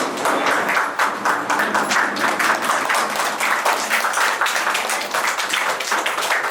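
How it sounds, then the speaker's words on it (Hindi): A standing audience claps steadily at a memorial gathering, dense and sustained applause filling the whole stretch at an even level. "फिर कौशल को खड़े होकर आशीर्वाद दें और तालियां बजाएं, सभी खड़े हो।"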